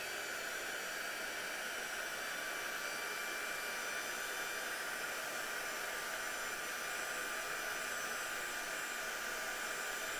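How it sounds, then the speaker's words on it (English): A heat gun melting embossing powder blows a loud, steady rush of hot air that continues without a break. "So I'm just going to pop my heat gun on if anybody has headphones on."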